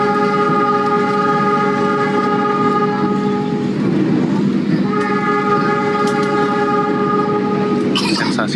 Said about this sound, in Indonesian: langsung suwean 35 klakson panjang